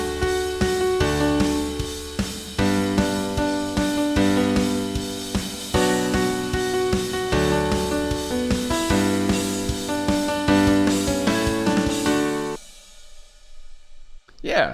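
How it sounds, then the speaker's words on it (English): Programmed drum beat with crash cymbal playing in EZdrummer 2 drum software, a loud, full steady groove of kick, snare and cymbals that stops near the end, leaving a ringing decay. "what's cool about Easy Drummer 2 is that you can change your power hand."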